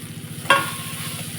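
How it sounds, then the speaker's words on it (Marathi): Soaked puffed rice being sautéed in a pan for a savory snack, a continuous sizzle with a single sharp scrape or clink of the spatula midway. "आता मुरमऱ्यांना पण मस्त परतून घेऊ आपण"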